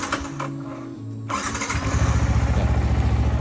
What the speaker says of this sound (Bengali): প্রতিদিন বাইক ওয়াশ করার পরে বা বাইক চালানোর আগে একবার একটা কোল্ড স্টার্ট অবশ্যই দিয়ে নেবেন।